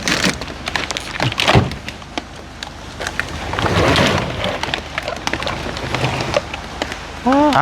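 Steady rain falls continuously, mixed with rumbling and scattered knocks and crackles, with a brief burst of a bird-like chirp near the end; no speech is heard.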